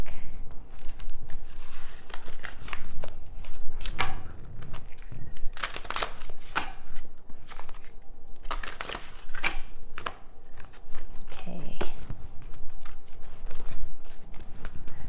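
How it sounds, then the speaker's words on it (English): Several tarot card decks being shuffled in turn, giving repeated bursts of crisp riffling and crinkling card noise at close range throughout, with no talking. "Got a whole bunch of decks here to shuffle."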